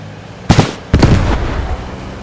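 Two sharp, loud blasts from a Panzerschreck rocket striking a slow-moving vehicle in the WWII shooter Squad 44, each bang trailing into a rumbling decay, close and without voices.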